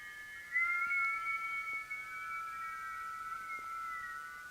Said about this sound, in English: exhale with a whistle as if you're being drawn up